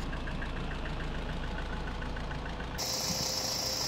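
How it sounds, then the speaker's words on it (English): A car engine idles steadily with an even, low mechanical pulse, close by and constant, shifting to a brighter hiss in the last second. "I like to let the engine idle for at least 10 minutes"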